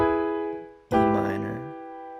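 A piano sounds two sustained chords: the first rings and decays over nearly a second, then a fresh strike rings out and fades slowly, close and clear, with no talk over it.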